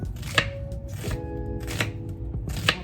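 Knife chopping chicken strips on a cutting board: a few separate sharp, close chops spaced roughly a second apart, with steady kitchen background noise and faint tones between them.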